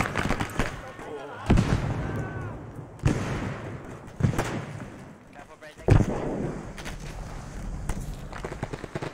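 Frag grenades and gunfire crack and boom in an Arma 3 Vietnam-era jungle firefight: several sharp, punchy blasts spaced a second or two apart, close and loud, with voices talking over the rumble.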